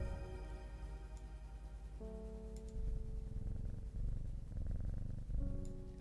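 A cat purrs in the Strange Horticulture video game. The purr is a soft, continuous, rhythmic rumble that swells slightly in places, heard alone under faint game music tones.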